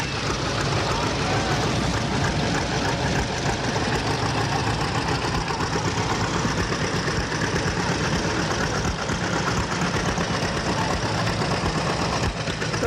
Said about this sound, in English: Got some older John Deere tractors coming through